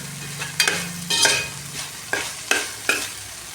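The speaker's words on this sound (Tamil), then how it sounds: "நல்லா கிளறி விட்டுட்டு வேக வச்சு எடுத்து வச்சுக்கலாம்." Bitter gourd fry being stirred in a pan, a spatula scraping in several separate strokes over a soft background sizzle, close and fairly clear with no talking.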